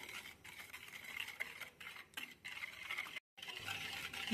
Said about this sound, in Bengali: এবার ভালো করে চিনি আর তেলটা একসাথে আমি মিশিয়ে নিচ্ছি